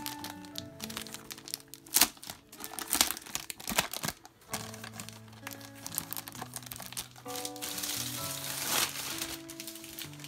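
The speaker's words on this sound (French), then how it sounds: "Je suis vraiment désolée pour les bruits de plastique." Plastic packaging from a Diamond Art Club diamond painting kit crinkles and crackles during unboxing, close and continuous with sharp snaps, over soft background music.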